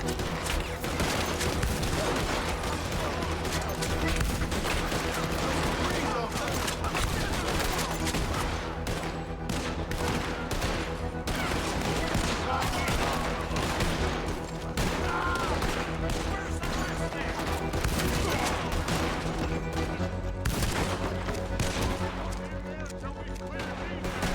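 Sustained gunfight in the video game Red Dead Redemption 2 in the city of Saint Denis, dense rapid shots and volleys throughout, loud and continuous, mixed with game sounds and someone talking.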